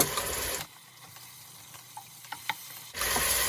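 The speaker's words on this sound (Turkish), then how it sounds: "Bir miktar salça da koyuyorum. Bununla da birlikte kavuracağım." Onions sautéing with tomato paste in a pan, giving a soft sizzle with faint stirring scrapes and a few light clicks, fairly quiet and steady, with no talk.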